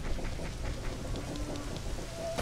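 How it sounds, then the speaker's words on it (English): Steady rainfall with faint rumbling thunder in the video game Zelda: Ocarina of Time, a continuous soft patter heard alone with no voices over it. "Now that it's raining, I bet the well is full."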